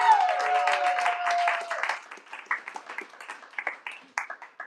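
Applause and clapping from a small audience after a first-time stand-up comedy set, starting as a dense wash and thinning into scattered individual claps.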